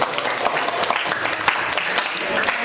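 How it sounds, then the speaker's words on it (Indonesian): Classroom of teacher-training participants clapping for a classmate, a lively scatter of distinct hand claps with sharp peaks, moderately near and sustained throughout. "tepuk tangan untuk dia"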